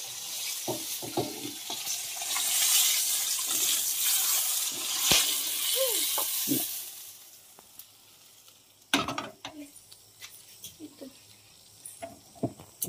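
Fish fry in oil, sizzling loudly at first, then fading, with clinks and stirring knocks of utensils; a few faint voices or sounds in the background.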